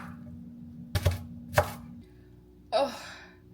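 A knife cuts through onion on a cutting board in a few distinct chops, two quick sharp knocks followed by a softer slicing stroke, close and isolated against a faint background hum.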